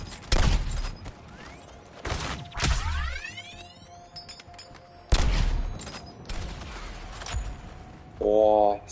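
Sniper rifle gunfire in the Suicide Squad co-op video game: several loud, sharp shots with heavy low thumps, spaced a few seconds apart, mixed with other game effects and clatter.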